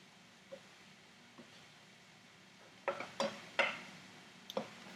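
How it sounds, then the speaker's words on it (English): Scrambled egg is stirred into pork cauliflower fried rice in a pan. A couple of soft taps are followed by a quick run of scraping utensil strokes and clinks against the cookware, close and fairly quiet. "once it's all the way scrambled, you can start mixing it in"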